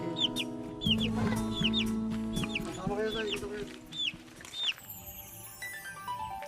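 Several chickens cluck and chirp close by in repeated short calls, with a low steady hum underneath and some faint chatter in the background.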